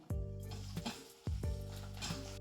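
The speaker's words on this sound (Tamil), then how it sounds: "இப்போ வெங்காயம் சேர்த்துடலாம்" Chopped onion frying in hot oil with a bay leaf for mutton dalcha, a steady sizzle broken by three evenly spaced scrapes or stirs, with a faint musical tone running underneath.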